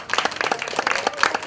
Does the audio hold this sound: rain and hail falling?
no